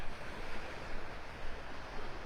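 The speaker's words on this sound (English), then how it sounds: "The wind's coming more out of the north than the east right now." Northeast wind buffets the microphone on a Gulf beach at Delnor-Wiggins, North Naples, Florida, while surf churns in a constant broadband wash with gentle surging pulses, no voices present.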